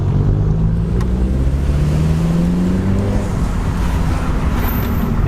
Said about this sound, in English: we're now going to take for a test drive and see how much louder it is